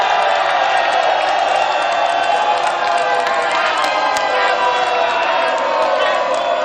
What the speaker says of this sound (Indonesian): Saya ingin minta suara yang paling meriah dari para pendukung pasangan calon nomor 1 dan juga 2.